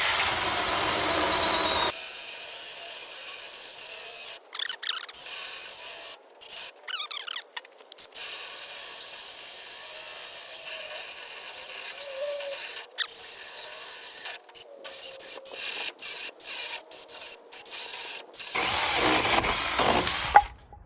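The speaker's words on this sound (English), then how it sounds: "I'm just letting the saw cut through." Small chainsaw slowly cutting through a 6-inch log, a steady high-pitched whine with the chain rasping through wood, broken by brief cutoffs, rising louder at the start and end.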